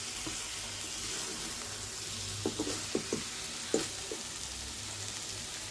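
Chicken fries in a shallow layer of oil in a pan, giving a steady close sizzle with a few brief clinks and scrapes from stirring partway through.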